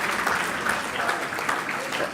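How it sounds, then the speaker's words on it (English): Sustained applause from a competition audience at a Toycathon event, steady dense clapping filling the whole stretch with no break. "I request audiences to please keep on clapping"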